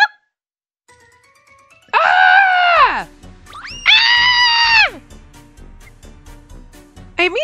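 Two loud, drawn-out harmonic screams, one around two seconds in and another soon after, rise and fall from a character in the Love Spell video game, with clatter and short noises between and a brief cry cutting in at the end.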